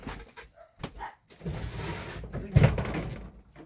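Door being closed indoors, a single dull thud near the end after brief shuffling and handling noise, fairly quiet, with dogs barking faintly in the neighborhood.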